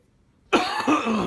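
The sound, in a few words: cough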